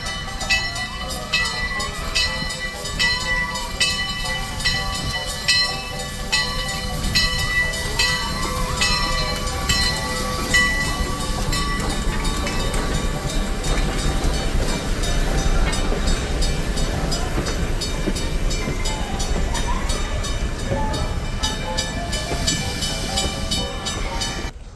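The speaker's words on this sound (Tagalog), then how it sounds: "Padaan yung train. Ayan, dito ang train." At Heritage Park in Calgary, a heritage park train rolls steadily past nearby, its wheels clattering rhythmically over the rails for about twenty-five seconds, with no talk.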